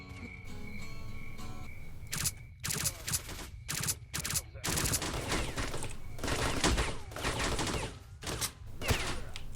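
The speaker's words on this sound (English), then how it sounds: "They actually shoot me through the wall, I see." Rapid bursts of gunfire from STALKER: Shadow of Chernobyl, loud clustered shots in irregular volleys over a steady droning background, close and punchy with no speech.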